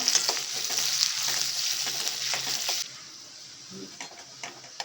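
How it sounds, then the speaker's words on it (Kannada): Onions frying in oil until golden for a restaurant-style kala chana curry, a moderate sizzle with light stirring scrapes that quiets partway through, leaving softer occasional clinks. "ಇದು ಚೆನ್ನಾಗಿ ಕೆಂಪಗಾಗಬೇಕು ಅಲ್ಲಿವರೆಗೂ ನಾವು ಫ್ರೈ ಮಾಡ್ಕೊಳ್ಳೋಣ ಗೋಲ್ಡನ್ ಕಲರ್ ಬರಬೇಕು"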